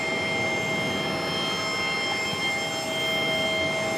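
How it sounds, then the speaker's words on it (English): An American Airlines A321 jet, 24 years old, departing Charlotte for Richmond sends out a steady, moderately distant engine hum with a high whine, constant level and no speech. "The A321 right behind it. It's off to Richmond."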